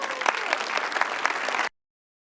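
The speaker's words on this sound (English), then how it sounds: "I'd like each and every one of them to stand up and take a great big round of applause" A round of applause for guests at a city council meeting, with many hands clapping in a dense, steady burst that stops abruptly after under two seconds.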